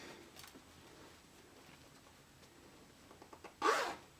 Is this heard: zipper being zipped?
yes